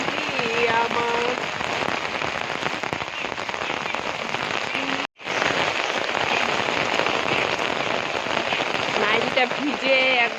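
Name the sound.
heavy rain falling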